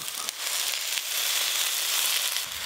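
Cut eggplant pieces drop into hot oil in a pan after potatoes have been fried, setting off a loud, close, continuous sizzle with crackling that swells and holds throughout.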